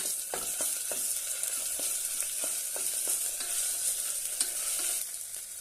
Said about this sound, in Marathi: आता यामध्ये अर्धा चमच आला लसणाची पेस्ट घालूया छानपैकी परतून घेऊया